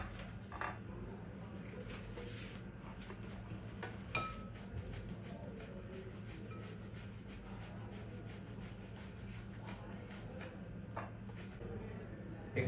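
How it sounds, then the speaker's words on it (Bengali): Two boiled potatoes being grated by hand for chicken chops, a soft, faint, steady rasping scrape repeated stroke after stroke, with occasional light knocks and no talking. "এটাকে আমি গ্রেট করে দিব"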